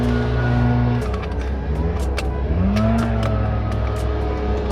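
A car engine, the 2011 Lexus IS350, runs loud and steady at close range, with its pitch rising and falling as it is revved, plus a few sharp clicks mixed in.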